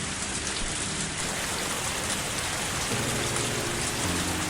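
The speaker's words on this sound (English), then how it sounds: "I started running through the rain." Steady rain from a Higurashi When They Cry visual novel sound effect pours down as a dense, continuous broadband hiss, with no voices and a faint low hum in the background.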